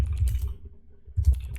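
Computer keyboard being typed on, two short bursts of soft key clicks separated by a brief pause, close and fairly quiet, with no speech.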